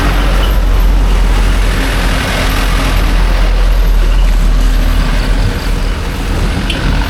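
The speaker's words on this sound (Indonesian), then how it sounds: "iring-iringan truk" A convoy of trucks rolls past at a mining site in the morning, a steady, loud roar of heavy engines and road noise that continues throughout without any voices.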